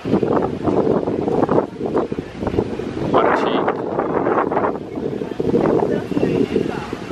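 Strong wind blowing on the waterfront at Put-in-Bay after morning rain, loud roaring microphone buffeting in gusts that nearly swamps the clip, with someone speaking Czech over it.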